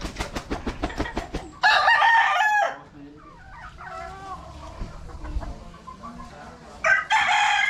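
A Boston Grey gamefowl rooster crows loudly nearby, once early and again at the end, with clucking, rustling and scattered background noise in between.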